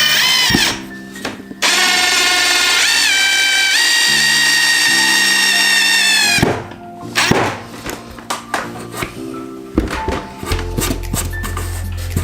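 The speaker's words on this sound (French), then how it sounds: "Voilà, donc vous voyez une perceuse" A cordless PDC 18/4 power drill whirs steadily for several seconds, then stops abruptly; shorter irregular bursts and clatter follow as the drill is used on wood for making tables from scrap timber.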